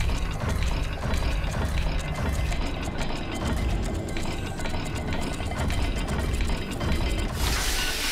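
Grinding stone door mechanism opening in a Slytherin maze in Hogwarts Legacy on PS5, a continuous dense rumble with ratcheting, gear-like clatter that runs steadily for the whole stretch, loud and without speech.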